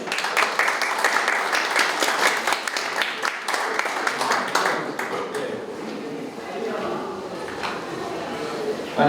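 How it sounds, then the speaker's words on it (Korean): An audience at a Korean foreign-affairs and security forum seminar applauds to welcome a defense journalist, with dense clapping for about five seconds that then thins out and gives way to quieter room sounds. "여러분 큰 박수 쳐주십시오."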